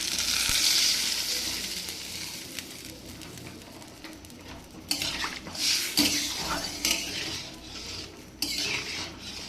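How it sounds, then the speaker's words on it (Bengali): Gravy poured into a pan of frying potato and brinjal for a hilsa curry gives a steady sizzle, overlaid by clinks and scrapes of a utensil against the pot that grow busier partway through. "এবার ঝোলটা দিয়ে দেবো"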